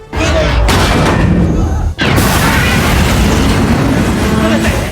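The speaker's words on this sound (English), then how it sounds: "Mayoko fired a main gun first but still missed" A WWII-era battleship's main gun fires in a film battle scene, heavy booming blasts with thunderous rumble, loud and close, one deep boom followed by a sharp cut and another roaring blast that keeps rolling.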